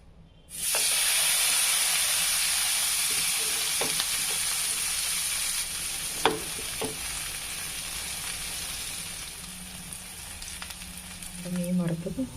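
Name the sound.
kingfish frying in hot coconut oil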